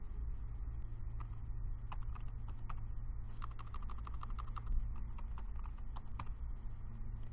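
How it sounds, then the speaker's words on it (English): Typing on a computer keyboard, a steady string of light clicking keystrokes in irregular bursts over a low hum, close and without talk. "we are going to type in VMware"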